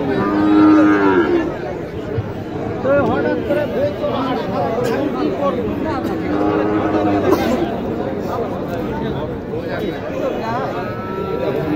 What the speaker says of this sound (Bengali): এগুলো সবই হচ্ছে কোরবানি উপযোগী ছোট ছোট ষাঁড় গরু। হাজার হাজার গরু।